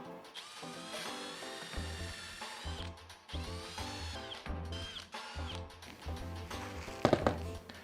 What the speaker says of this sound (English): We are going to be pre-drilling 3 holes on the end of our 30-inch pieces.